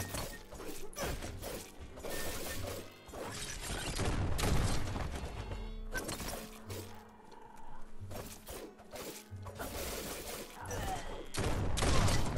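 Rapid bursts of weapon fire in the video game Biomutant, loud clattering volleys and impacts layered with music and game effects, coming in dense waves with brief lulls.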